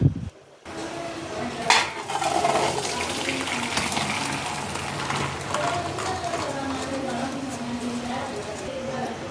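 Cooked field beans from a pressure cooker being tipped into a vessel, with clattering metal pots, scraping and sloshing up close, and someone talking over it.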